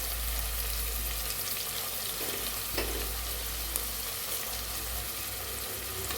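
Onions frying in a pan while preparing mutton curry, a soft steady sizzle close by with a few faint stirring clinks, no voices.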